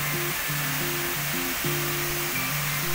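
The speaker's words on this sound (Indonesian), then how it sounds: "jadi air terjunnya berada di bawah ya teman-teman" Temam waterfall heard from a suspension bridge 50 meters above it: a steady, distant rushing roar that continues unbroken, with a simple low melody playing over it.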